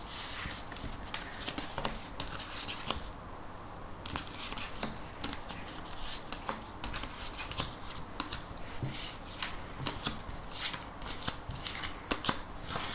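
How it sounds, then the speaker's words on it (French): Tarot cards being drawn and laid out for a nine-card spread, heard as a steady run of soft snips, taps and shuffling clicks close by, with no talk. "On va prendre 9 cartes."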